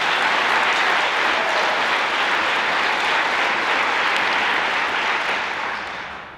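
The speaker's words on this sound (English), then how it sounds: "let's give them a round of applause" Dense, loud audience applause at the 2022 Success Foundation Breakfast, a sustained roar of many hands clapping that holds steady and then begins to taper off at the end.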